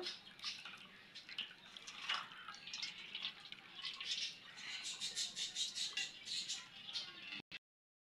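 Whey dripping and trickling from chhana, cottage cheese curdled with vinegar, as it is strained through a cloth for chhanar jilapi; a steady wet patter runs throughout, close and fairly quiet, with no talk, ending in a brief knock.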